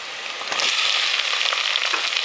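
Tomatoes go into onions frying in a pan for aloo kasoori methi sabzi, giving a loud, steady sizzle that swells slightly after the first moment and hisses on without pause.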